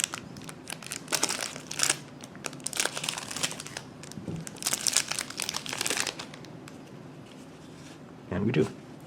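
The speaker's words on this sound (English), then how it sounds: "so we should see Captain Levi and kits at the end of the foil pack" A foil pack of Attack on Titan MetaX trading cards crinkles and rustles in bursts of sharp crackling, close up, with a pause and a final brief crumple.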